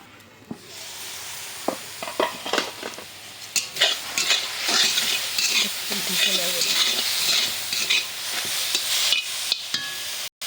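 Red amaranth greens fry in a pan with salt and turmeric, a soft steady sizzle broken by repeated scraping and stirring strokes, close by and moderately loud.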